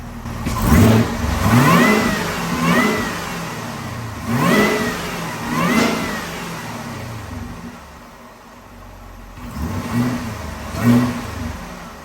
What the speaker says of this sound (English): there's definitely a little bit of supercharger whine